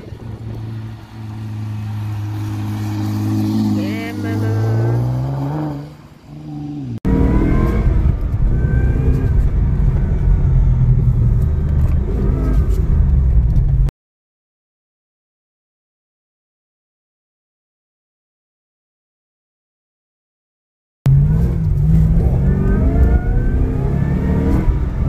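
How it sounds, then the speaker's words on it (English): Nissan Skyline GT-R R35 engine revving loudly as the car accelerates past, climbing engine tones in two separate passes with a silent gap between them. "Nissan GTR man."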